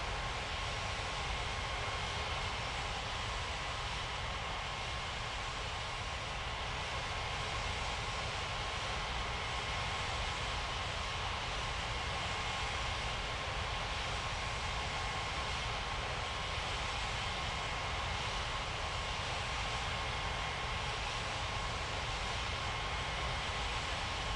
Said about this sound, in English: Lufthansa 7353, cleared for takeoff runway 27.